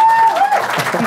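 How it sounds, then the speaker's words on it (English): An audience at a book festival applauds in a dense, continuous wash of clapping lasting about a second, with a faint tone underneath. "Please join me in giving them a very big round of applause for being so generous and spending your time."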